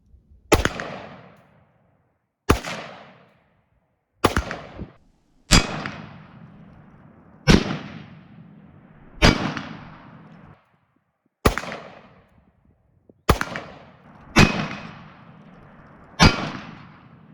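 ATI Omni Hybrid MAXX shotgun fired with cheap rounds at a steel target: about ten sharp, loud single shots spaced a second or two apart, each with a ringing decay.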